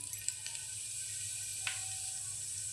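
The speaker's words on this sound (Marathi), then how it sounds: "त्यामध्ये 2 मोठे चमचे तेल गरम करून घेतलंय। आता त्यामध्ये अर्धा चमचा जिरं घालूया।" Cumin seeds sizzling in hot oil in a pressure cooker, a quiet steady hiss with a few faint crackles and pops, no talking.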